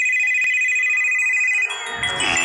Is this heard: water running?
no